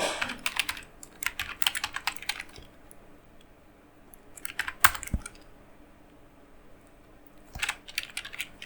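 Computer keyboard keys clatter as CSS code is typed, in quick rattling bursts separated by short quiet pauses, close and moderately quiet.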